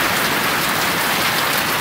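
Heavy rain pours during a storm with pea-sized hail, a dense, loud, steady hiss of drops on surfaces with no voices.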